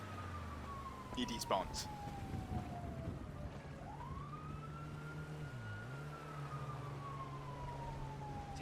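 Police car sirens wail in Grand Theft Auto: Vice City, a sweeping tone that slides down, then rises and dips again over a low engine rumble, with someone speaking briefly near the start.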